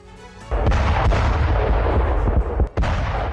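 Ukrainian artillery fire in war footage: a loud close boom opens a sustained rumbling barrage, followed by two more sharp blasts late in the clip, with no voices.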